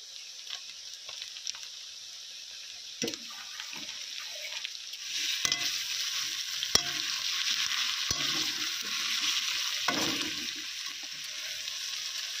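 Browned onions and chopped tomato frying in a pan, a broad hissing sizzle that swells midway, with occasional scrapes and knocks of a utensil and no voices.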